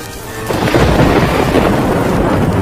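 Heavy rain pours down in a cartoon about a poor farmer's crops, a loud dense roar that swells after a quieter start, with deep rumbling like thunder beneath the downpour and no voices.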